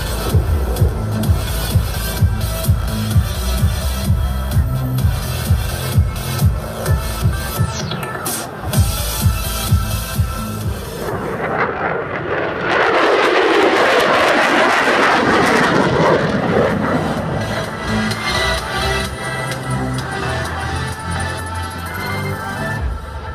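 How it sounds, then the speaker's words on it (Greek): F-16 jet making a low, high-speed flyby at an airshow in Nafplio, a loud rising engine roar that swells into a broad rushing blast and then fades into a lingering rumble. "επιδεικνύει την ικανότητα F-16 να πετάει σε χαμηλό ύψος και με μεγάλη ταχύτητα"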